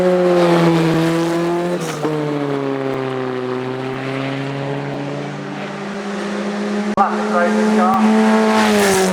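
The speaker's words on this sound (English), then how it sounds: "Bryony Serrell's Formula Ford Lotus 51A is a regular challenge competitor." A Formula Ford Lotus 51A race car climbing a hill course, its engine a loud sustained drone rising and falling in pitch through gear changes, close and dominant.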